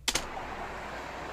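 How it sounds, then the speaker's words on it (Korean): City traffic ambience: a couple of sharp clicks at the start, then a continuous, even wash of distant road and vehicle noise with no speech. "이 같은 이 도시교통의 어떤 흐름 같은 그런 소리가 들리고 있죠"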